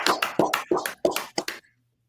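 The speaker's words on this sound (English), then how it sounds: "Applause." Several hands clap in a short burst of about eight sharp, uneven claps, close and fairly loud, quickly stopping to silence.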